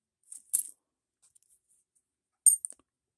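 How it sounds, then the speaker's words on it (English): Circulated foreign silver Balboa coins clink together in the hand, with two short bright metallic jingles about two seconds apart in an otherwise quiet room. "circulated foreign coins like this"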